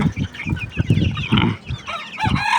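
Native desi hens clucking busily while being fed, several birds close by making overlapping short calls in an irregular rhythm.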